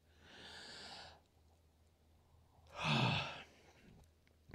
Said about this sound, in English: Yawn.